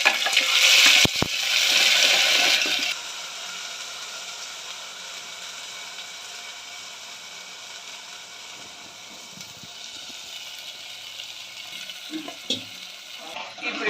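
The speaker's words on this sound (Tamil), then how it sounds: "இதில் போட்டு அப்படியே வதக்கணும்" Ground paste hits a hot pan with a loud burst of sizzling for the first few seconds, then settles into a steady, softer frying hiss with occasional scraping stirs, no voices.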